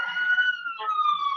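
An ambulance siren in the wrestling video game WWE 2K22 gives a brief, sustained wailing tone that slides slowly downward, heard clearly and fairly close.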